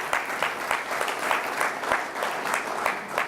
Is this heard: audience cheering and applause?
yes